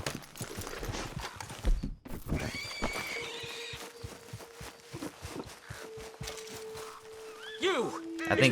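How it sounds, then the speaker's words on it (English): A Shire horse in the Red Dead Redemption 2 video game neighs and whinnies with hoof clops and footsteps, amid other game sounds, while a person talks over much of it. "the Shire horse as well."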